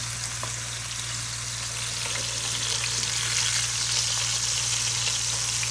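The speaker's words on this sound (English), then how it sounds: "Alright, time to flip the burgers." Burger patties for a patty melt sizzle on a hot griddle just after flipping: a steady, dense frying hiss that holds evenly throughout, close and fairly loud, with no voices.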